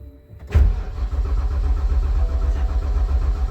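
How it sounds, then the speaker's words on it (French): A starter motor cranks a BMW 135i E82 with an N54 engine, a sudden loud burst after a moment of quiet, then a steady low churning drone that carries on to the end. "Le démarreur tourne."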